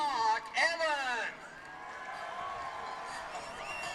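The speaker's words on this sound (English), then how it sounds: "Big cheer for Mark Evans" Crowd at a Japan versus Australia rugby test match in Sydney cheers for a hometown player, a broad steady roar that rises after a brief stretch of announcer-like voice at the start.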